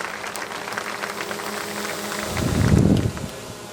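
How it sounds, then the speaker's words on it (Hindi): A crowd at a BJP election rally in Sanganer applauds to welcome state party president CP Joshi: dense, continuous clapping from a large audience, swelling louder toward the end. "एक बार जोरदार तालियों के साथ माननीय अध्यक्ष जी का स्वागत"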